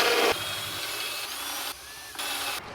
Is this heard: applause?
no